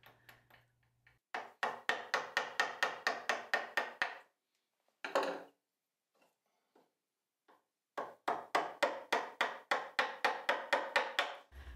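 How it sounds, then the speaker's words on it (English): Repeated rhythmic taps of a mallet on a chisel cutting wood while shaping a wooden cleat, two close, crisp bursts of rapid strikes separated by a pause with a few scattered knocks. "The larger chisel is allowing him to contour the actual base out to the cleat ends"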